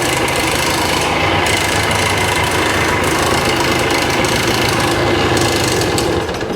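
A 1965 Montgomery Wards Benelli scrambler motorcycle engine runs steadily up close, a loud continuous rattly drone with mechanical clatter that holds throughout and dips slightly at the very end.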